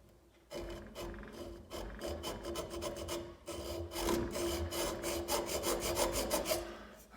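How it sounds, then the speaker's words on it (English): A hacksaw fitted with an 18-tooth blade cuts steadily with rhythmic rasping back-and-forth strokes, close and loud, pausing briefly midway before resuming, with no talking. "And then I'm going to saw."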